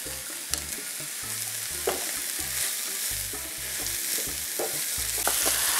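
Salted mushrooms fry in a hot pan with a continuous close sizzle, broken by repeated scraping and knocking stir strokes at an uneven rhythm throughout.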